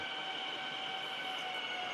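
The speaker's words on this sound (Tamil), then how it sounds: "ட்ரெயின் நிறுத்துவோம்." Train in a train video game slowing to a stop, a steady metallic rolling hum with a sustained high wheel squeal and tonal whine, even and continuous throughout.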